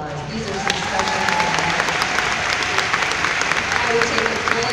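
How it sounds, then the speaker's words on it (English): Sustained audience applause fills a Mary Kay Ruby Seminar hall, dense clapping holding steady throughout with crowd noise and faint voices mixed in. "Give them a round of applause."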